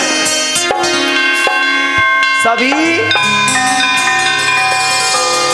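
Bells ring loudly during a Shri Bhagavat katha religious gathering, with overlapping sustained metallic tones and fresh strikes throughout, and a voice heard alongside them.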